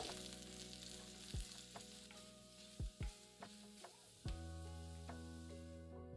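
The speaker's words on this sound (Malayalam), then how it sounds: "അതിലേക്ക് 6 ചെറിയ ഉള്ളി അരിഞ്ഞത്, 4 വറ്റൽമുളക്, കുറച്ച് കറിവേപ്പില, ഇത്രയും ഇട്ട് മൂപ്പിക്കുക." Chopped shallots, dried red chillies and curry leaves fry in hot oil for a raw mango curry, giving a soft, continuous sizzle broken by several sharp clicks and scrapes of stirring, with no one speaking.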